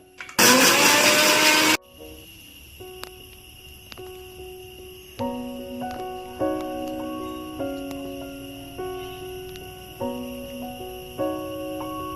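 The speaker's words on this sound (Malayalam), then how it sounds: "മാമ്പഴം വെന്ത് വരുമ്പോഴേക്കും നമുക്ക് തേങ്ങ അരച്ചെടുക്കാം" A mixer grinder grinds coconut and cumin in a short, loud, steady whir of about a second and a half, then stops, leaving quiet kitchen clinks and faint tonal beeps.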